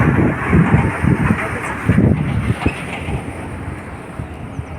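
A train passes through hilly mountain country with a steady, close rumble mixed with wind buffeting, easing slightly toward the end.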